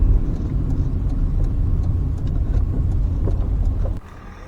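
A Rover 25iL car rolls to a stop with a steady, loud engine and road rumble that cuts off abruptly near the end, leaving a quieter idle, with no voices.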